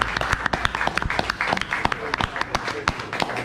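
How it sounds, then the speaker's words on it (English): A crowd at a community event in Hackney gives a lively round of applause, distinct individual claps sharply audible in an uneven, energetic rhythm, with some voices mixed in. "So again, people, give yourself a round of applause."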